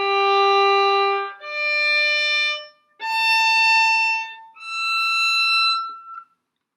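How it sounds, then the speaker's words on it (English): Violin natural harmonics, produced with a finger lightly half-pressed on the string, sound as four separate sustained, pure, flute-like tones, each rising in pitch and played alone and close. "When I half press my finger on the string, it sounds like this."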